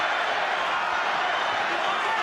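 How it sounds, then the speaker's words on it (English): Boxing arena crowd roars steadily to fire up Juan Manuel Marquez against Floyd Mayweather Jr., a broad, continuous wash of distant cheering and noise with no distinct voices. "And listen to the crowd trying to fire him up."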